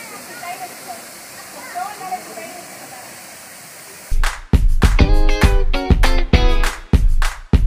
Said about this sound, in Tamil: மலையும் மலையிலிருந்து விழும் அருவியும் என்ன அழகா இருக்குன்னு